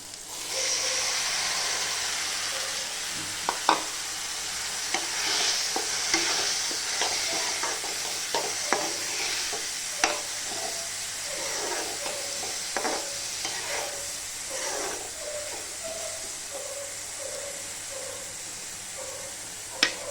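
Washed chigur greens tossed into a hot pan sizzle and hiss steadily while a spoon stirs them, with repeated scraping clicks against the pan over about twenty seconds and no voices.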